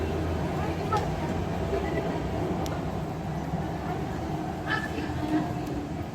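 An MRT metro train passes with a steady, continuous rumble that stays even throughout, with faint voices in the background.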